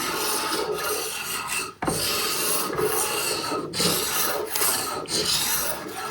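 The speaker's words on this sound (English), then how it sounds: "if you turn the draw knife on end, you can make shavings just like with the card scraper" A draw knife scrapes shavings from Osage orange bow wood, a dense, continuous rasping that carries steady strokes close up, with one brief break partway through.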